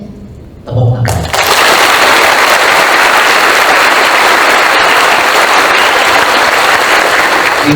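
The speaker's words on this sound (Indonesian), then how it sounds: "Tepuk tangan." A crowd breaks into loud, dense applause after a brief moment of quieter room sound, then keeps clapping steadily close up through to the end.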